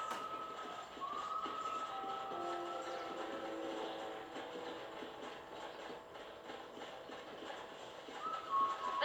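A train in the Red Dead Redemption video game, a steady distant rumble of a rolling train with tonal squealing or whistle-like tones, continuous for several seconds.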